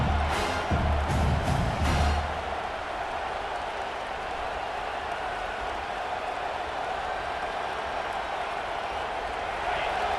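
Home crowd in the College Football 26 video game roars as the defense faces third down, a loud sustained stadium wash with an early burst of louder cheering that settles into a steady murmur.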